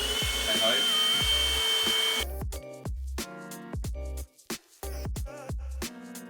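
A household power drill runs at home near a wall, whining in a sustained high tone and then cutting into short bursts with brief pauses between them, loud and close.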